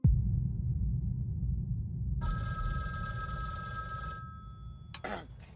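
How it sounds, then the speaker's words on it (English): A telephone bell rings in a Phone Booth (2003) movie trailer, a bright sustained ring of about two seconds over a low rumbling score, followed by a short burst of another sound. "You hear a phone ring and it could be anybody."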